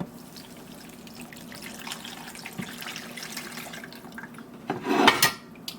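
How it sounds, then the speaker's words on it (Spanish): Two cups of water trickle and splash softly into a blender, building to a brief louder gush near the end, with faint kitchen clatter behind. "Voy a agregar también 2 tazas de agua."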